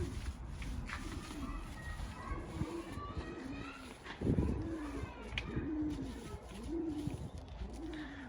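Pigeons coo repeatedly in a large coop, soft rolling calls recurring every second or so at moderate distance, with faint talk and children's voices in the background.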